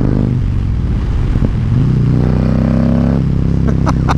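A Harley-Davidson Freewheeler trike engine rumbles loudly and steadily up close during a test ride, its low throttle note rising briefly as it accelerates, with some wind buffeting and rattle over it.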